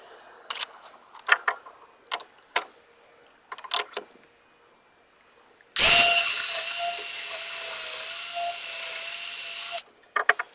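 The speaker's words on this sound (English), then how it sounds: "Let's go ahead and start drilling." A power drill whirs steadily for about four seconds, drilling holes in plywood, loud and close, between scattered clicks and handling noises.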